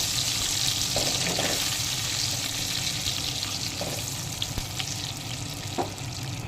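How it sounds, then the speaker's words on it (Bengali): Peanuts fry lightly in a pan for a vegetarian taro-leaf dish, with a dense continuous sizzle close by and a few soft scraping stirs scattered throughout, no voices. "বাদামটা আমি একটু হালকা ভেজে নেব"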